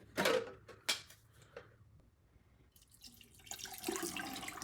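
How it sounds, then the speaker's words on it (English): Water from a dehumidifier tank poured into a toilet: short splashy gushes at first, then a brief pause, then a longer steady pour and trickle, close but fairly quiet. "if I have a larger amount that's going to splash back, I'll just put it in the toilet because it's more room."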